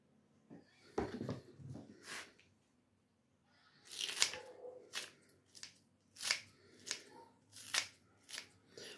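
Kitchen scissors snip through food for a Greek dish, a series of crisp separate cuts in quick irregular bursts, close and fairly quiet, with soft handling noises between.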